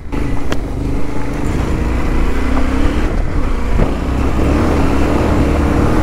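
A Yamaha Ténéré 700 motorcycle riding along, its engine a loud, steady, close drone with wind rush and slight shifts in pitch.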